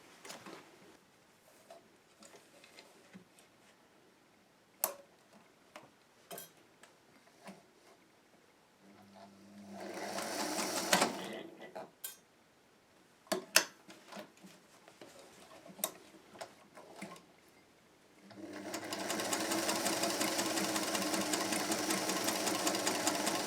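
A sewing machine stitches fabric in two bursts of rapid mechanical whirring, a shorter run then a longer steady one, with scattered ticks and clicks between.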